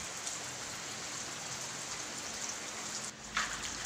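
Steady rain falls on an outdoor gourami fish pond as an even, close hiss that continues without a break.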